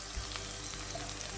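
Shallots and garlic fry in coconut oil in a pan, a faint, steady low sizzle with light crackles and a small clink near the end, with no voices.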